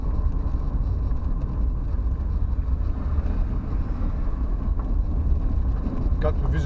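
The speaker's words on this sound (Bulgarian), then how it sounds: "бая силен вятър днеска" A constant low rumble of strong wind hits the microphone throughout, loud and unbroken, on the road to a wave spot on Gokceada.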